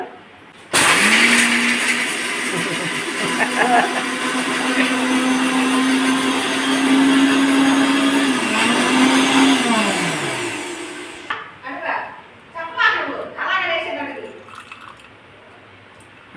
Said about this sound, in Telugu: ఇది ఎప్పుడైతే మసాలా మిక్సీ చేస్తాడంట